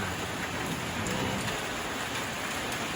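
Steady rain falls in a dense, even hiss with no pauses, loud and close, with no voices over it.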